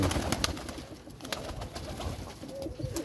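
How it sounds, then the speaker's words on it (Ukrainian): Soft pigeon cooing in a noisy outdoor setting, low murmuring calls repeating over steady background noise with occasional sharp clicks. "Ота голубочка ага."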